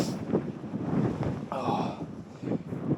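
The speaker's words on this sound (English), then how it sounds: "Wind's not dying down." Strong gusty wind buffets the microphone high on a fogged-over snowy mountain, Blencathra, during a winter storm, roaring steadily for the whole stretch with some brief rattling.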